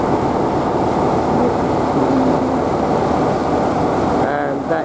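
A heritage train on the Wensleydale Railway gives off a steady, loud, broadband rumble with no letup, and the noise eases slightly near the end.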